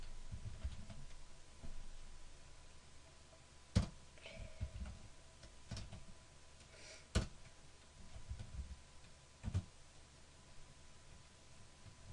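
Typing on a computer keyboard while coding a game in Notepad, with sparse, faint key clicks and a few sharper taps scattered over a quiet background hiss.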